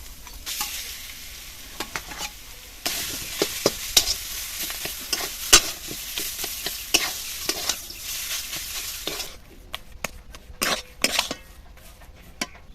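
Grated carrot and mashed potato filling fried in a pan: a busy, close run of spatula scrapes and stirs over a continuous sizzle, with occasional metallic clinks and no speech.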